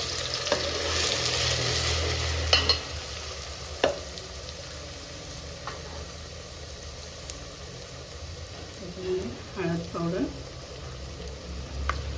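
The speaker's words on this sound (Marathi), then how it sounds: "आता आपलं तेल तापलेलं आहे हे बेसनासाठी आपण वाटण केलेलं आहे ते घालून घेऊया" A ground masala paste, made for a besan-based maswadi, hisses and sizzles steadily after going into hot oil in a pan, with brief stirring scrapes and a few quiet spoken words.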